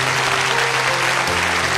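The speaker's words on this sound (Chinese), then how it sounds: "掌声送给这一家。" A studio audience at a family variety show applauds after a comedy sketch, a short, dense burst of steady clapping heard close and loud without speech.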